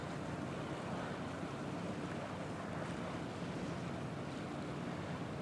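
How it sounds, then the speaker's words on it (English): Ferry boat crossing open water, a steady wash of waves and wind buffeting the microphone at moderate level, with no voices. "That is the ferry boat"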